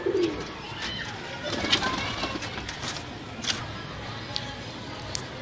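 Breeder pigeons coo softly in a pen, with low murmuring calls scattered under steady background noise and someone talking over them.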